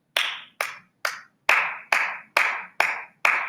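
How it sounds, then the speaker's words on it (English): Eight sharp hand claps ring out one at a time in a steady, evenly spaced rhythm, each crisp and close with a brief decay, with silence between them and no talk. "How many claps did you count in there?"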